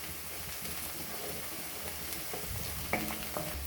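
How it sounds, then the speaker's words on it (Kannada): Chopped onions frying in a pan for masala egg bhurji crackle in a dense, continuous sizzle, close up, with a couple of brief scraping knocks near the end and no talking. "ಈರುಳ್ಳಿ ತುಂಬಾ ಚೆನ್ನಾಗಿ ಫ್ರೈ ಆಗಿದೆ"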